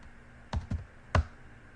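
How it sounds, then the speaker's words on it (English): Three sharp clicks from a computer keyboard as a number is typed into a shop-floor ERP job entry screen, spaced apart and fairly quiet against a soft room hiss, with no talking. "So I'm just going to type it in."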